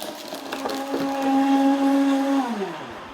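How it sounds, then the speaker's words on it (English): A blender whirs steadily as it blends a thick cacao, goji and peanut butter smoothie on a hard fruit and veg setting, its motor holding a constant hum, then winding down near the end. "Give it about 40 seconds in your blender, depending on the blender."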